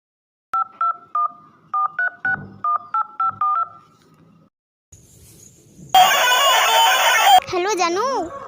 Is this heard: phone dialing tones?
yes